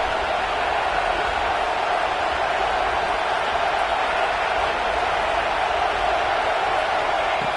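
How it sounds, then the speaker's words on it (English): A packed football stadium crowd roars as a steady, dense wall of cheering that stays loud and unbroken throughout, with no clear voices standing out. "listen to this crowd noise. This stadium is vibrating."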